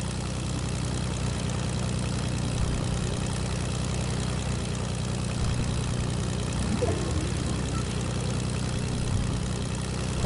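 A small propeller plane engine in a retro video game drones loudly and steadily, holding an even, unbroken idle-like hum throughout.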